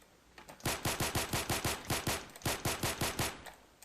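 Rapid automatic gunfire from a shooter video game: about fifteen sharp, evenly spaced shots in two bursts with a short gap between them, loud and close, with no voices.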